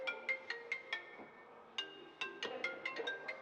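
A cell phone ringtone plays during an incoming call, a quiet chiming melody of short bright notes repeating in two phrases.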